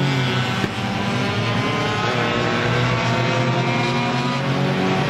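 Four-cylinder enduro race cars roar around Star Speedway in a dense, continuous engine drone, several cars blending into one loud, close wall of revving sound with no talk.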